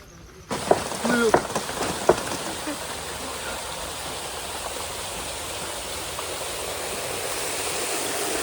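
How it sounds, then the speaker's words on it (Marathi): Water from a motor-pumped artificial waterfall at a large restaurant pours in a steady, loud rushing wash, following a few brief knocks at the start. "हे असं बनवलं आहे धबधबा मोटर लावली तिथून पाणी जाते दोन्ही साईडनी"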